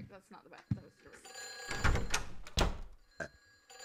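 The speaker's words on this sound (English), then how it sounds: "The phone's ringing." A telephone rings in a bedroom in the horror game Silent Hill 4: The Room, with repeated bright electronic rings that a person reacts to, speaking over them along with bumps and thuds.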